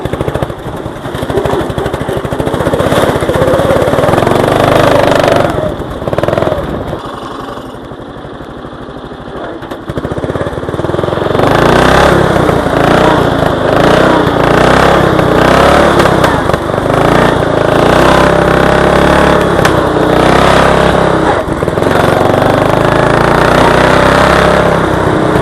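A speed-boosted Craftsman riding mower engine runs at full throttle in high gear with the differential locked. The roar is loud, close and continuous, with a short dip in intensity partway through before it surges back.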